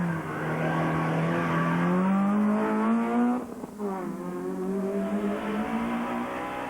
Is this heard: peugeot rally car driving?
yes